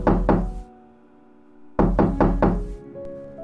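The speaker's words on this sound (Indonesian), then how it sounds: "ada yang menggedor pintu kamarku" Heavy banging knocks on a bedroom door, two quick hard blows followed after a pause by a burst of four more, loud and close with no voice over them.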